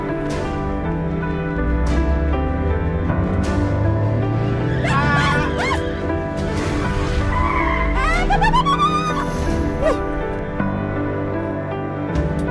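A car driven fast skids with long squealing tire screeches and a revving engine, loud and close, the squeals rising and bending in pitch over several seconds.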